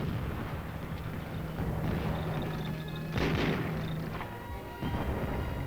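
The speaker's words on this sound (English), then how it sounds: "Coordinated fire keeps the enemy pinned down." Continuous gunfire and heavy artillery rumble during a combined infantry and tank attack, a dense, distant-sounding barrage with repeated booms and bursts layered over a steady roar.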